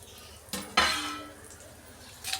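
Food is shifted from one bowl to another with two quick clattering scrapes of a spoon against metal, a brief ringing clink, then a softer scrape at the end.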